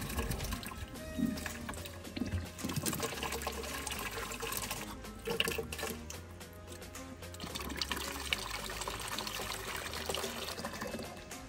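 Water runs steadily into a 2 gallon bucket for a hydroponic garden setup, a continuous close trickling and splashing fill with no talking.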